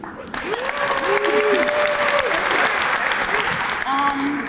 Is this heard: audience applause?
yes